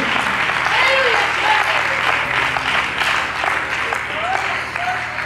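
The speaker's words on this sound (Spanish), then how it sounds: "Dale un aplauso al Señor que todo el mundo." A church congregation applauds steadily and loudly throughout, a dense wash of many hands clapping together under a pastor's sermon, with voices calling out over the sustained applause.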